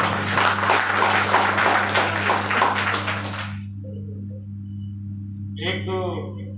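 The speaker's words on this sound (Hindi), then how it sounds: "पुनः फिर से हमारे सभी नए साथियों के लिए जोरदार तालियां।" Audience applause for new members at an indoor gathering, a burst of dense clapping over a steady hum that stops abruptly midway, followed by quiet and a voice speaking.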